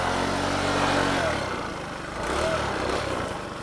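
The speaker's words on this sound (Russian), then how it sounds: "Я же на мопеде." A moped engine hums steadily while riding along a rough path, a close, mid-pitched drone that dips and swells with the throttle, mixed with wind noise.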